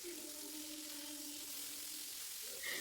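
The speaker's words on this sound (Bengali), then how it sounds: "মাছটা কিন্তু আমি ভালো করে ভেজে নিচ্ছি" Amudi fish frying in hot oil in a kadai, a steady broadband sizzle held close and even throughout, with a faint tonal hum underneath and a brief brighter burst near the end.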